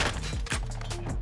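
Fast automatic bursts from an FSS Hurricane SMG in Modern Warfare 2 crackle loudly and close, with sharp, closely spaced shots over a brief stretch.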